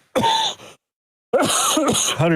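A short throat-clearing cough, loud and close, then a pause before a longer rough vocal burst.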